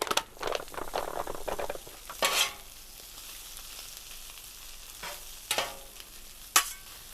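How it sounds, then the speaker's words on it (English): Shredded pork fries on a flat griddle top, a soft steady sizzle broken by scraping and stirring bursts from a spatula, with several sharp clattering strokes spaced apart and no talking. "Shredded pork on the griddle top."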